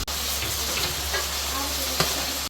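Salted mixture frying in oil in a home kitchen, stirred steadily, giving a continuous close sizzle with small scraping stirs and one sharper clink near the end, no talk.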